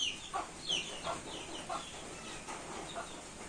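A hen clucking outdoors on a rainy day, a series of short, faint calls at uneven intervals over a soft, steady background of rain.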